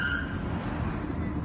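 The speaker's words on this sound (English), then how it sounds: "Why is this truck making so much noise?" A noisy truck on a New York City street, heard as a loud, continuous low rumble with a faint higher whine, steady and close, with no talking.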